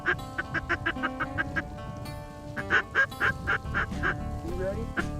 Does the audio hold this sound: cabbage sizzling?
no